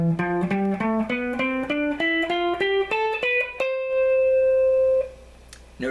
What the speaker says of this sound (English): Now if I want to play the major scale in the second pattern, it would sound like this.